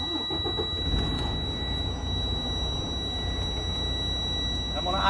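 A truck engine starts with the brakes set and the transmission in neutral, then settles into a loud, steady idle nearby, with a faint high tone in the background.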